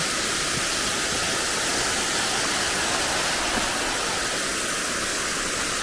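Winter Falls in Silver Falls State Park, Oregon, gives a steady, dense roar of falling water that stays constant throughout, with no other sounds.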